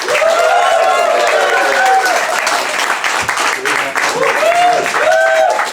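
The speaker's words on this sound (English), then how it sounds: "clapping noise that we love, ladies and gentlemen, Ian Colyer!" Audience applause and cheering for comedian Ian Colyer as he takes the stage, loud sustained clapping with voices calling out over it.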